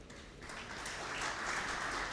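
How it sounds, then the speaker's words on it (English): An awards dinner audience claps, the applause swelling from moderate to fuller and louder over a couple of seconds. "Another round of applause for GCEO Nation Media Group, Mr. Stephen Gitagama"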